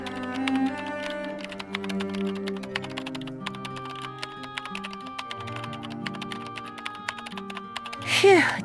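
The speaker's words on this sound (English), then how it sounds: "I feel like I've been typing forever" Rapid keyboard typing in the Nancy Drew game Curse of the Blackmoor Manor, a dense run of clicking keystrokes over soft background music, with a brief whoosh near the end.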